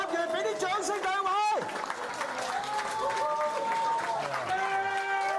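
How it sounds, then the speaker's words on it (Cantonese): An audience at a Hong Kong amateur boxing match applauds after the third round, the clapping running under an announcer's voice that carries over it. "第三個回合完，俾啲掌聲兩位。"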